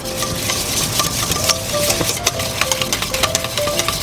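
Bacon sizzling and rendering its fat in a pan for carbonara, a loud continuous frying hiss with rapid spoon scrapes and clicks as it is stirred.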